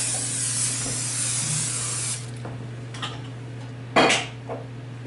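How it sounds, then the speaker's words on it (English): A sustained hiss of cooking oil spray for about two seconds, then a few light clinks and a brief sharp clatter. "Some oil spray on it."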